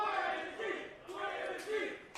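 A wrestling crowd shouts and cheers for Blizzy Blake in waves of rising and falling voices, fairly distant and echoing, with a commentator's voice mixed in.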